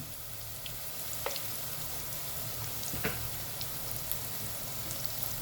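Spices, coriander powder and ginger garlic paste sizzle steadily in a pan for capsicum curry, a soft continuous frying hiss with occasional small pops and stirring taps.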